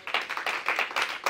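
A congregation claps in rhythm to acclaim the Lord, a steady run of close, bright hand claps at an even beat.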